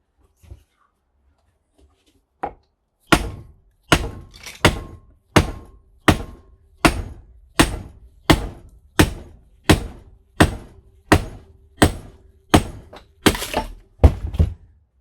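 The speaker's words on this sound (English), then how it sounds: "So I just got it sitting in the vise, and so I'll just pound on this edge." A large scrap transformer clamped in a vise is pounded on its edge, about fifteen loud, evenly spaced heavy metallic thunks ringing out one after another, close and alone after an opening pair of strikes.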